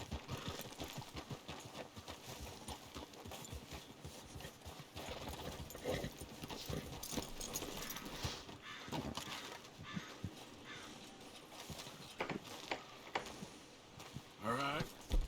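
Horse hooves clip-clop in an uneven rhythm in the game Red Dead Redemption 2, close and moderately loud, with voices speaking over them and faint bird calls in the background.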